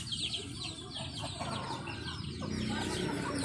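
Chickens of an unusual breed cluck and chatter close by, a busy overlapping flock sound with soft rising calls running continuously throughout.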